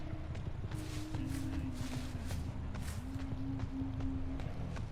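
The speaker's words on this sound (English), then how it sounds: "I heard footsteps." Footsteps in Dead by Daylight tread at a steady walking pace, each soft step landing over a low, droning in-game hum.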